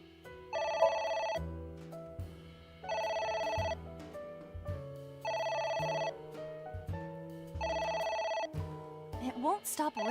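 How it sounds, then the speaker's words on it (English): In the video game AI: The Somnium Files, a telephone rings four times in a steady repeating pattern with short pauses between rings, layered over low game music and effects. "It won't stop ringing."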